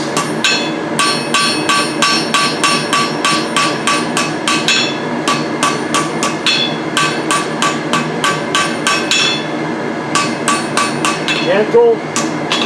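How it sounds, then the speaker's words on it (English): A blacksmith hammers hot metal while forging tongs, striking in a loud, fast, steady rhythm of ringing metallic blows close by, with short pauses between bursts. "hammer out those cross beam marks."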